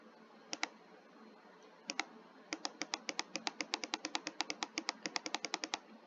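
Computer keyboard keys are tapped close and crisply, a few isolated presses followed by a quick steady run of about two dozen keystrokes, with no talking over them.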